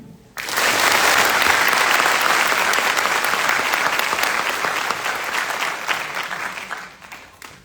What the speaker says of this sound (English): Please join me in a round of applause for the Drill Sergeant Leader of the Cycle